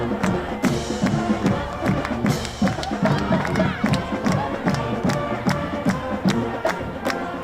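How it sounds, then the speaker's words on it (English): A high school varsity football crowd roars and cheers in the stands, loud and sustained with shouts, whoops and scattered clapping, plus rhythmic thumps and chanting bursts throughout. "The Red Mountain crowd loving it."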